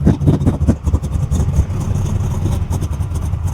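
A car engine on an E85 carburetor running pump gas idles roughly up close, a loud, uneven low rumble with a lumpy pulsing beat and no voices.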